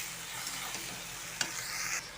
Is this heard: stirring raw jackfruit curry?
yes